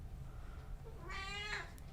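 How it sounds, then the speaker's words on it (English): A house cat lets out a single loud, drawn-out yelling meow, rising and then falling, close by in a quiet room. "My cat is yelling for some reason."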